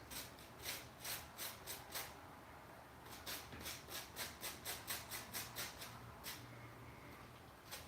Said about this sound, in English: this is our garlic butter for the turkey. Gonna rub it down, and baste it